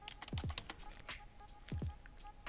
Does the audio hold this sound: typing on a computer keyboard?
yes